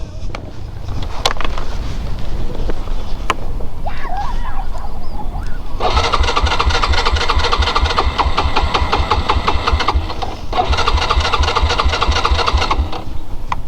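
An engine near a beach in Alibaug cranks and catches, then settles into a loud, close, steady idle with a rapid rhythmic chug and a brief dip partway through.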